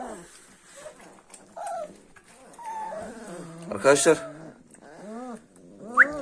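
Kangal puppies whimper and let out small whines in several short, rising cries close by, with someone speaking over and between them.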